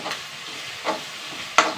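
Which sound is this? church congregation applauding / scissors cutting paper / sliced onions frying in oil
sliced onions frying in oil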